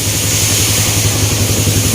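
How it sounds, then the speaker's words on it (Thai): A Yamaha Exciter 150 motorcycle fitted with a 60 mm ceramic cylinder runs after starting, a loud, close, steady idle with a low, even throb for the whole stretch. "ลองติดเครื่องให้ดูนะครับ เครื่องยนต์ติดแล้วครับ"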